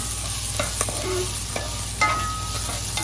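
Onion and chicken with a little ginger sautéing in bacon fat in a pan, a continuous close sizzle broken by occasional stirring scrapes and clinks, with no talk.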